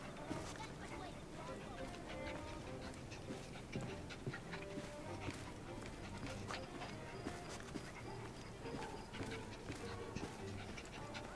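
Dog panting and whimpering in Assassin's Creed Syndicate, mixed with horse clip-clop and footsteps in a busy Victorian street, steady and mid-distance under ongoing talk.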